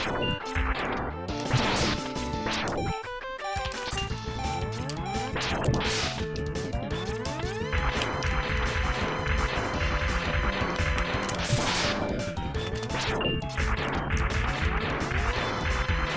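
Loud, busy Mega Man X action: repeated blasting charge shots and heavy smashing impacts on a boss over constant music and effects, with no talking.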